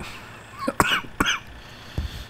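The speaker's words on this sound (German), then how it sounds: "schon wieder so husten, das geht aber gar nicht" Two sharp, close coughs in quick succession, followed by a softer third one, with quiet room tone between them.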